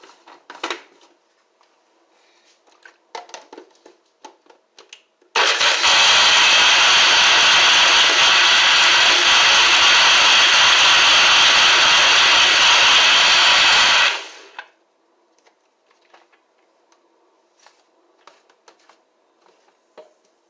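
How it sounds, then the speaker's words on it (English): A kitchen blender whirs loudly for about nine seconds as it blends a marinade mixture for roast chicken, starting and stopping abruptly, with quiet clinks and handling noises before and after. "I'm gonna allow it to blend first"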